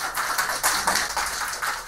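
A cocktail shaker holding a whiskey and ginger spritzer mixture with ice is shaken hard, giving a fast, loud, regular rattle of ice striking metal, about eight sharp beats in under two seconds, with no voice over it.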